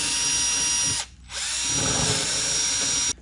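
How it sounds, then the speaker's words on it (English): A power drill with a 5/32 bit whines at high speed drilling rivet holes in carbon fiber, in two bursts, cutting out briefly in between, loud and close with no talking. "open the holes up to the final rivet size, which is a 5/32 drill"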